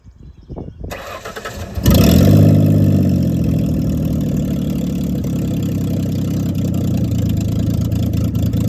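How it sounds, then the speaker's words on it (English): A flex fuel 3.0 truck engine cold-starts after a brief crank, catching with a loud burst and settling into a steady, rough idle that runs on close by. "But first, we have to do a cold start to see just how well this thing holds up."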